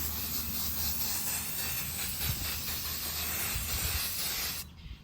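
White spray paint hissing from an aerosol can onto a garden item, one long continuous close spray that stops abruptly near the end.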